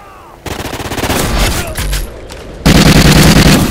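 Minigun fire in Call of Duty Ghosts gun game, loud, close and rapid, with bursts of gunfire building to a sustained fast-rattling stream at the end.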